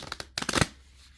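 A deck of cards being shuffled up close, a quick run of crisp riffling bursts that ends abruptly and leaves a faint quiet room.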